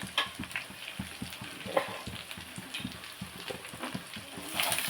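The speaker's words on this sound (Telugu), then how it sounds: "పప్పుకి వెల్లుల్లిపాయ ఎండుమిరపకాయ జీలకర్ర ఆవాలు కరివేపాకు తాలింపు పేస్తున్నాను" Garlic, dry red chillies, cumin, mustard seeds and curry leaves spit and crackle in hot oil for a dal tempering, a fairly quiet sizzle broken by many quick pops and splutters.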